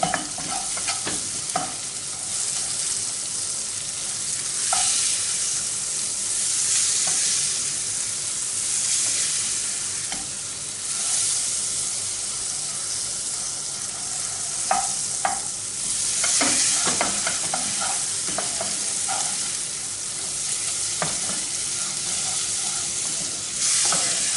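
A sesame and egg omelette mixture frying in a pan while being stirred, a continuous bright sizzle with repeated scrapes and taps of the utensil, close and steady throughout.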